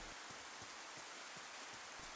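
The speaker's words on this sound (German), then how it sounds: "Der Regen ist ein bisschen nerviger mit dem Geräusch." Steady hissing rain falls throughout in the video game DayZ, with soft rhythmic thuds pulsing underneath at an even pace.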